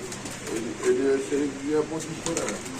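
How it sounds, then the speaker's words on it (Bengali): Fancy pigeons coo softly at a market, their low burbling calls mixed with voices talking and ordinary stall bustle close by. "এখানে কিছু ফেন্সি কবুতর আছে"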